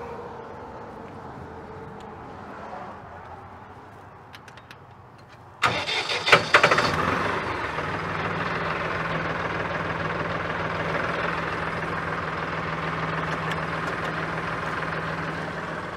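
A Massey Ferguson 2600H tractor engine cranks briefly, catches with a loud burst and settles into a steady, close diesel idle. There is quiet background before it starts and no speech.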